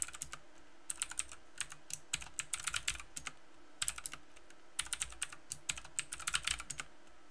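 Fingers typing on a computer keyboard while entering network switch commands, irregular bursts of quick key clicks with short pauses between, close and clear with no talking.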